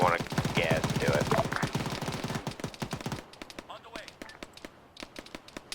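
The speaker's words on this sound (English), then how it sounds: "There's a guy shooting through a fucking wall." Arma 3 gunfire: rapid automatic bursts, loud and dense at first, then thinning into sparser, more distant shots, with voices over the firing.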